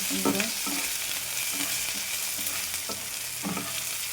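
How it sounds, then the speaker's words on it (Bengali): Onions with garlic, ginger and a little salt fry in oil with a continuous close sizzle, broken by repeated scraping stirs of a spatula against the pan, and no talking. "পেঁয়াজটা একটু ভাজা হয়ে যাবে তাড়াতাড়ি।"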